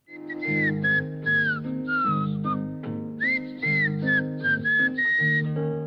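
A clear, close whistled film theme tune with sliding notes, phrased in short repeated segments, played alone with no talking.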